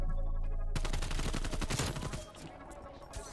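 Pistol fire in the video game Call of Duty Cold War: a fast run of loud, sharp shots packed together over the first half, then thinning out into a few scattered bangs and game noise.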